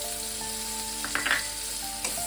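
Ginger-garlic paste frying with onions in a pan, stirred, giving a steady close sizzle with a few louder scraping strokes of the spoon near the middle and end, alongside faint sustained tonal hum.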